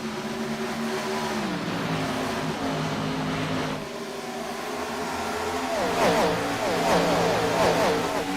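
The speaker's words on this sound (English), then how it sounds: "Been a long time since we've heard these cars cranked up to full throttle." Race cars scream at full throttle around Charlotte Motor Speedway in the iRacing sim, a dense layered engine drone with pitches sliding and shifting as cars pass, loud and continuous.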